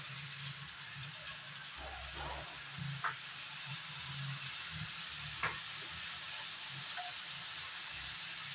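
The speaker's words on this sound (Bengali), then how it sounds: "এই কটা জিনিস আমি খুব সুন্দর করে ফ্রাই করে নেব।" Quiet, steady sizzle of food frying in a little white oil in a hot kadai, punctuated by a few light clinks of a spoon against the pan.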